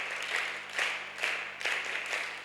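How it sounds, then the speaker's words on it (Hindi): An audience at a women's community gathering in Delhi claps in welcome, a broad wash of applause that swells in regular waves, recorded from within the crowd. "एक बार जोरदार वीरांगना ताली बजा करके अभिनंदन करें"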